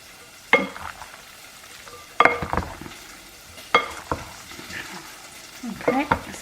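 Egg being mixed into ham carbonara in a hot pan, with soft frying sizzle beneath several sharp scrapes and clacks of a utensil against the pan at irregular intervals, close up and without talk.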